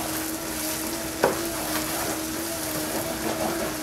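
Minced garlic dropped into a hot pan for crab noodle soup sizzles and fries steadily at close range, with a brief clink early on and faint stirring throughout.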